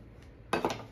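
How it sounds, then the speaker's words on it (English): Two sharp metallic clinks in quick succession as a hammer strikes a chisel on a drive axle bearing of a Chrysler 8 3/4 axle, after a quiet moment. "Back to the hammer and chisel."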